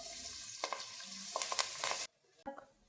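Onion dropped into hot oil for a biryani masala, sizzling loudly and steadily for about two seconds, with a few stirring clinks, then cutting off abruptly to near silence before one brief clatter.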